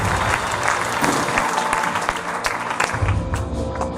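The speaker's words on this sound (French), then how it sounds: "Applaudissons-les encore une fois." A church congregation applauds through a worship service, with sustained, dense clapping that stays loud and steady throughout.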